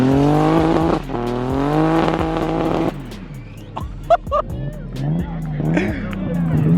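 A BMW E92 M3 tandem drifting with a turbocharged E30, engines droning and revving in waves with chirping, squealing tires, heard loudly from inside the car.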